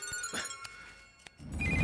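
A phone ringtone chimes in sustained tonal bursts at a police station, fairly faint, with brief pauses and a rising noisy swell toward the end.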